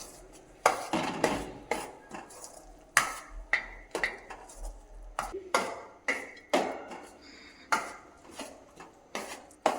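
Grated coconut and jaggery stirred together in a pan with a spoon, making repeated scraping and knocking strokes in an uneven rhythm for about ten seconds, close by and moderately loud, with no talk.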